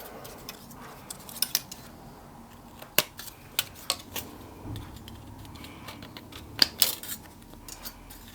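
Kitchen scissors snip through thin brass shim during a steam engine restoration, a series of sharp, close clicks and crisp cuts scattered irregularly over quiet background.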